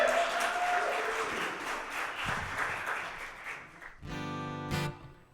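A crowd applauds a performer at a town center show, steady clapping for several seconds that fades as amplified music or feedback tones start near the end.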